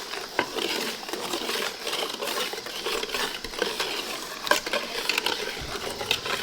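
Huckleberry pie filling being mixed by hand in a bowl before heating, giving a steady, fairly quiet wet scraping and stirring with a few light utensil clinks against the container throughout.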